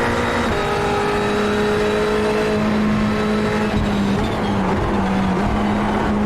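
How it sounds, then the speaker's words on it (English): Ferrari 488 race car engine in the iRacing sim at Spa-Francorchamps, a loud steady buzzing drone that shifts pitch as the throttle comes on and off, with no voices. "You can hear how much I'm on and off the throttle, just trying to use the throttle to control"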